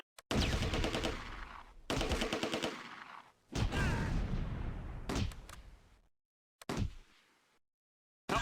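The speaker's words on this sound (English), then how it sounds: "The Sonderkraftfahrzeug cooks off as the flames heat up the mortar rounds." Ammunition cooking off inside a burning Schützenpanzerwagen Granatwerfer, a mortar-variant armoured carrier, in a World War II combat game at Groesbeek: loud bursts of crackling detonations in several clusters, separated by short silences.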